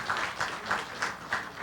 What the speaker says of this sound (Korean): 모두 함께 박수로서 축하해 주시기 바랍니다